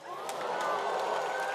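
Studio audience of a Korean comedy show clapping together, a steady dense patter of applause held at even loudness throughout the short span, with no talk over it.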